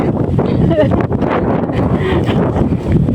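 Strong wind blasts outdoors in Taiwan, roaring and buffeting loudly and steadily against the microphone the whole time.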